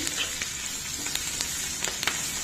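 Sliced onions and pumpkin pieces fry in oil in a pan, giving a steady, close, crackling sizzle with small pops throughout and no voices.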